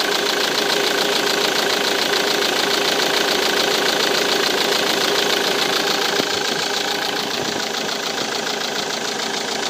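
Car engine idling steadily during a Delphi pump check, with a continuous close mechanical hum and faint rhythmic knocking, running evenly throughout with no talk.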